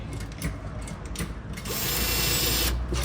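A cordless drill whirs in short mechanical bursts while driving screws during a Tofaş car modification, close and moderately loud, with a longer sustained run toward the end.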